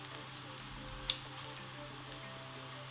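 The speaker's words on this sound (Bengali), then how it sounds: "খুব ছোট ছোট করে কিন্তু আমি তেলের ভেতরে দিচ্ছি" Small dollops of spinach and gram-flour batter frying in hot oil over medium heat give a faint, steady sizzle and crackle with a few soft pops, alone under a low hum.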